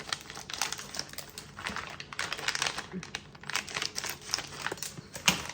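Plastic packaging of Thai noodles is cut open, giving close crinkling and rustling with quick snips and crackles throughout, with some brief talk behind it.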